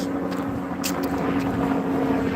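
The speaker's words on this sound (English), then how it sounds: "I hear that helicopter." A helicopter flies overhead on a walk outdoors, a continuous low droning hum that holds steady throughout without fading.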